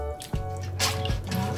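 A lemon squeezed by hand in a home kitchen, with its juice dripping into a bowl in a few short wet drips and squishes, close and fairly quiet, with a steady low hum underneath.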